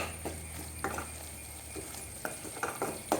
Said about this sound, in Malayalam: ലോ ഫ്ലെയിമിലിട്ട് നന്നായിട്ട് ഇതൊന്ന് വഴറ്റിയെടുക്കാം